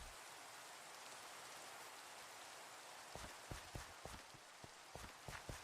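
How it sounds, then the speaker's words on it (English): Rain falls in Minecraft as a soft continuous hiss, very quiet, with a run of light rhythmic thumps joining in the second half. "I think it's once a Minecraft day that we get rain."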